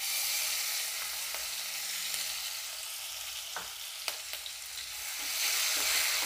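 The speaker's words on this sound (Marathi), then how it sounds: "हे लसूण आणि हिरवी मिरची आपण टेचून घेतली होती ती टाकूयात." Crushed garlic and green chilli sizzle in hot oil with cumin on a low flame for radish-leaf bhaji, a steady frying hiss with a few soft clicks as they hit the pan.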